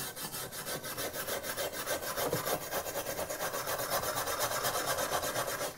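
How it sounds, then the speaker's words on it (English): Firm, fine steel wire brush scrubbing rust off the front end parts of a 1966 Thunderbird, a continuous close rasping scrape in quick regular back-and-forth strokes, no talking. "All I'm using here is a fairly firm steel wire brush."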